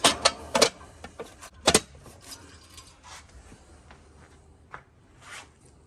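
A residential air conditioner's electrical disconnect is pulled out and its metal box shut, giving a few sharp clicks and clacks near the start and a scrape and knock around the two-second mark, then faint rustling with no talk.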